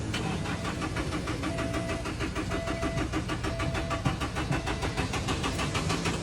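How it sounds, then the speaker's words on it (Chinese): A car engine cranks over and over without catching, a steady rapid churning of the starter that keeps going at an even loudness throughout, close by and with no voices. "这台车怎么都启动不了"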